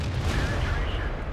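A tank cannon fires in World of Tanks, a heavy booming report with dense low rumble sustained across the short moment, loud and close, with a voice faintly present underneath.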